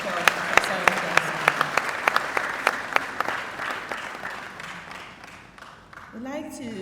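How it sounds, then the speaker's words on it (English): An audience at a KNUST herbal medicine awards ceremony gives a round of applause, with some sharp individual claps standing out in a steady rhythm. The clapping fades over several seconds, and a voice starts speaking at the end. "Another round of applause for Professor."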